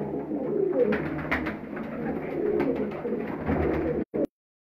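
Pigeons in a rooftop cage coo continuously nearby, several birds overlapping in a soft, throaty murmur before an abrupt cutoff at the end.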